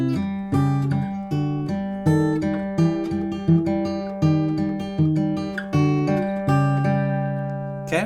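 Acoustic guitar fingerpicks part B of a song, close and solo, with quick plucked notes and paired strings ringing in a lilting, steady rhythm.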